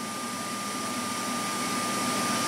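A vacuum cleaner on its low speed setting, drawing power from a LiFePO4 battery, gives a steady, even whir with a faint high tone, running continuously and unchanged at moderate loudness.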